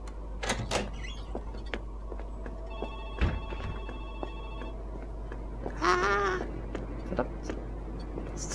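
A telephone ringing in an indie horror diner game, with a repeated ringing tone around the middle, other electronic game sounds and a low steady hum throughout.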